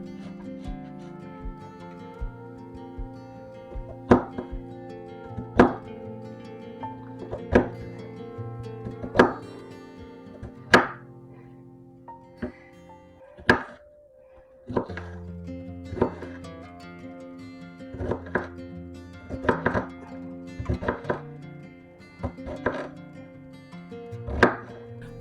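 A knife dices vegetables for a slow cooker sausage and cheese tortellini soup, with irregular sharp chops on a board over soft background music.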